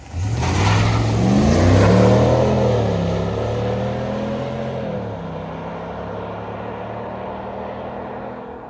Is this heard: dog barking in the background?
no